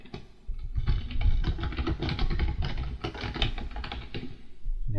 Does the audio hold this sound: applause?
no